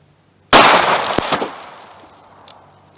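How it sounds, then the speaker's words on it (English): A single sharp, loud shot from a .380 pocket pistol firing Hornady Critical Defense ammunition, with a long decaying echo and a faint knock afterward. "So let's test the critical defense 380."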